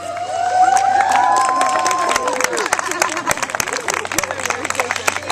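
A crowd at a post-season celebration for a college men's basketball team cheers and whoops loudly, then breaks into sustained clapping. Shouts ring over the applause, and voices can be heard in the mix.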